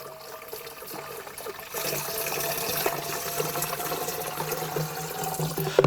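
Water pours into a standard garden pump sprayer, a steady broadband gush that starts softly and swells louder after a couple of seconds, continuing alone without talk.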